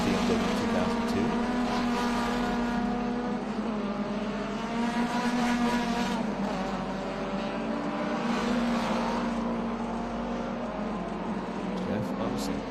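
Vintage race cars, including Datsun 510s and a BMW 2002, run on the track at Portland during SVRA racing, engines droning and revving past at a distance under steady commentary.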